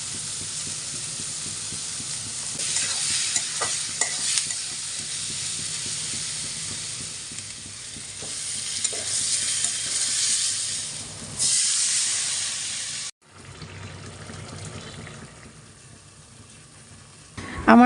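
Eggs cooked dry with garlic and ginger paste frying in a pan, a steady loud hiss with scattered crackles and faint clinks, briefly cutting out near the end.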